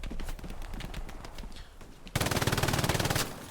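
A machine gun fires in the WWII shooter game Hell Let Loose, with distant battle gunfire first, then a loud, close burst of rapid rhythmic shots lasting about a second.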